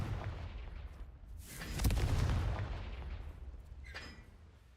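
Confringo blasting spell going off in Hogwarts Legacy, a single booming explosion that swells and rumbles for about a second before fading, followed by a quieter magical crackle.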